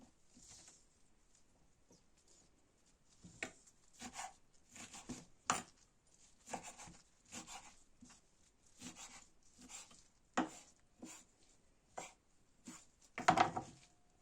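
A knife chops through wild golden thistle (Scolymus hispanicus) stalks on a board in irregular bursts of crisp, crunchy cuts, growing louder near the end, with no talking.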